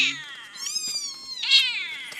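Young kittens meow in close, high-pitched, drawn-out cries, several overlapping calls rising and falling one after another with no talking.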